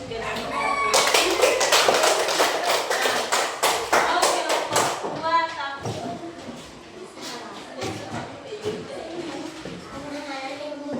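Schoolchildren in a classroom clap together after a lesson activity on unplugged algorithms, sharp rhythmic claps in unison for several seconds, then softer, looser clapping and shuffling with young voices in the room.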